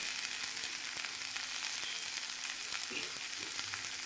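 Food fries in a pan at home, giving a faint, even sizzle with a few soft stirring taps.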